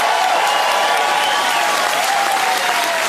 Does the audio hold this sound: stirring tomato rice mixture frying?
no